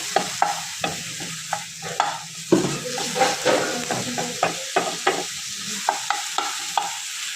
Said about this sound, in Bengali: দিয়ে একটু মশলাটা কষে নেব